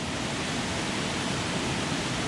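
Water rushes steadily along a relatively wide section of a jungle stream, a dense, even hiss of flow that stays loud and close without pause.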